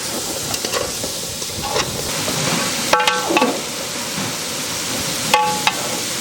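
Crab pieces dropped into sautéed onions in a frying pan for a crab omelette, giving a steady loud sizzle with a few sharp metallic scrapes and clinks of stirring, close up.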